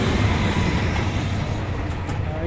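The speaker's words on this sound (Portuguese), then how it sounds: "Olha o metrô passando aí" Metro train passing close by near Park Shopping in Brasília, a steady loud broadband rumble and rush of wheels and rails filling the whole stretch, with street traffic noise mixed underneath.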